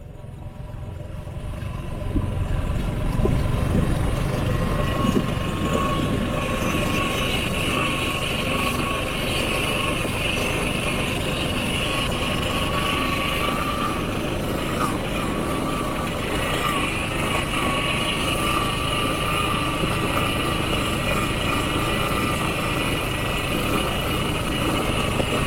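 A motorbike engine runs steadily throughout a road ride, a loud continuous drone with a low rumble and faint higher tones, rising slightly after a quieter opening.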